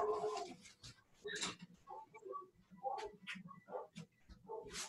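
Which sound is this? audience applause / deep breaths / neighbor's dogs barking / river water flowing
neighbor's dogs barking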